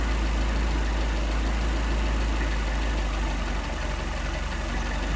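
Mercedes 190SL engine idling with Solex carburetors as the idle is adjusted, a loud, steady low rumble that holds constant throughout with a slight change in tone toward the end.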